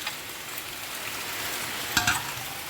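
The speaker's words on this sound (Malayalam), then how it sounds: "നമുക്കിനി സവാള ഇട്ട് കൊടുക്കാവേ." Onions sizzling in hot oil in a pan for Thalassery chicken dum biryani, with a soft steady fry and a couple of brief stirring scrapes near the end, no talking.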